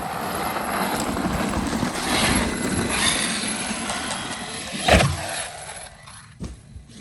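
A Traxxas X Maxx RC truck fitted with PR Racing mod 1.5 gears gives off a steady mechanical whine and rushing drive noise. A sharp knock lands near the end as the sound thins out.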